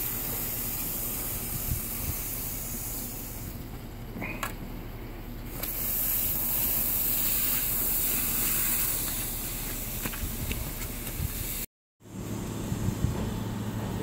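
Water spraying steadily from a hose to wet down soil around a newly planted windmill palm, a continuous hiss that briefly cuts out near the end before resuming.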